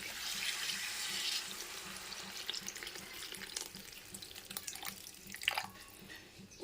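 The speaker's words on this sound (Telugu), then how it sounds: "చింతపండు వాటర్ పోస్తున్నామండి." Tamarind water splashes into ladies finger (okra) curry after the okra has been fried for a couple of minutes, a close rushing pour over a faint sizzle that tapers into scattered drips and stirring.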